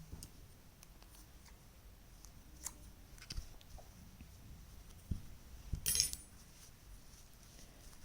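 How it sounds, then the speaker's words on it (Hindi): Scissors cut the crochet thread after a final chain on a small crochet jacket for a Laddu Gopal idol, a faint quiet scene with soft handling ticks and one brief crisp snip near the end. "एक चेन लेंगे और धागा काट देंगे।"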